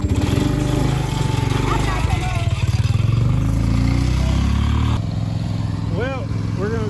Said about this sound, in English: I'm gonna hook the mower up and go across the street and cut grass.